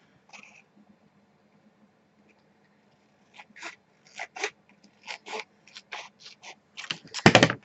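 Paper for a mini flip book is cut with a series of short, crisp snips, roughly a dozen quick cuts in an uneven rhythm after a brief faint rustle, close and fairly quiet with no talking.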